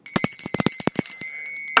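A small bicycle-style bell rung rapidly during a math lesson, about a dozen quick bright dings packed into under two seconds, close and loud with no talking.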